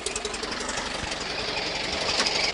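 An engine on a newly bought project vehicle catches and runs steadily with a rough, knocking rumble, close and moderately loud, alone without voices.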